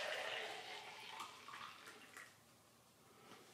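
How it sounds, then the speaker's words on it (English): Brewed coffee is poured from a grande cup into a venti cup, making a soft, steady liquid trickle. The sound is close but quiet and tapers off over a few seconds. "let's take this one, the grande, and pour it into the venti and see what happens"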